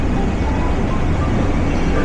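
LRT light rail train on the line from Antipolo to Recto, heard as a loud, steady low rumble of rolling wheels and motor noise throughout, close by, with no voices.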